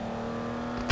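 A vehicle engine in the BGMI mobile game drones at a steady pitch as it drives, ending in a sudden loud burst of noise.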